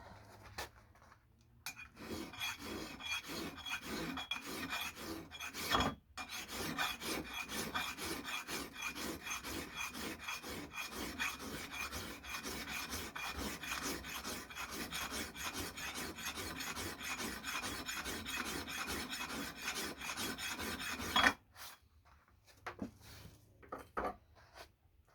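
A hand file rasps across an axe blade in steady, rhythmic back-and-forth strokes, close and crisp. There is a brief pause early on before the scraping resumes, and it stops near the end.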